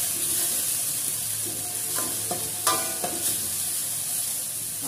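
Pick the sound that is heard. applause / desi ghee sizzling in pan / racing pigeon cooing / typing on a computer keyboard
desi ghee sizzling in pan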